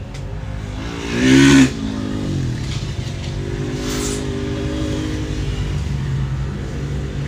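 Youth UTV 170 race vehicles at the 2025 Buffalo Chip in Sturgis, South Dakota, engines droning steadily at a distance with one louder rev surge passing early, no talk.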